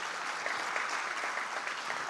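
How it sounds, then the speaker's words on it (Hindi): An audience at the opening ceremony of a literature festival in Pakistan claps steadily, a dense, fairly distant patter of applause heard alone. "इनके लिए तालियां होनी चाहिए।"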